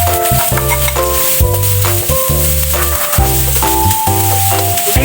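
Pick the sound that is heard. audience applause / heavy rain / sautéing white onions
sautéing white onions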